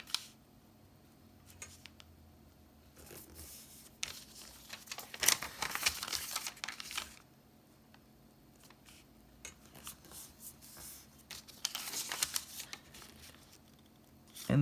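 Paper being folded and creased by hand for an origami tessellation, soft close crinkling and rustling in short bursts, with two louder crisp stretches, and quiet pauses between them.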